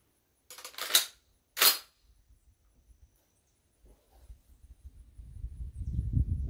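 A 1944 National Postal Meter M1 Carbine fires two sharp, loud shots about half a second apart, followed by quiet and then low outdoor rumble and handling noise.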